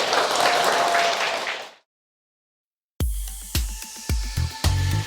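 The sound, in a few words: applause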